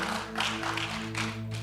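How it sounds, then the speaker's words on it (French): Congregation applauding during a church service, a steady wash of clapping with a few louder surges over a low hum, continuing without a break for under two seconds. "Give it up for the Lord."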